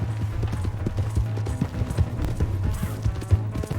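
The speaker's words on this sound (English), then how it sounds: "Hey, that's my horse! Just borrowing it." Horse hooves galloping in the Red Dead Redemption 2 video game, a steady rapid clip-clop rhythm that stays close and fairly loud throughout, with occasional thuds and no speech.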